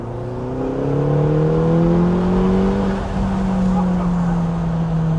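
A car engine revs hard inside a road tunnel, its rising and falling engine notes echoing loudly and continuously like a Formula 1 racer, with a faint voice underneath.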